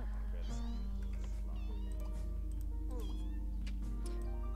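A cat meows repeatedly in The Sims 2, several rising and falling calls over a loud steady hum and soft background game sounds.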